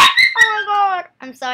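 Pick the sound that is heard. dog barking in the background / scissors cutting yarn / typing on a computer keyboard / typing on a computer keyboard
dog barking in the background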